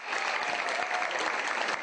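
Audience applause at the close of a children's stage show performed by children with special needs for Autism Awareness Month, a steady dense wash of clapping that holds at full strength for the whole stretch.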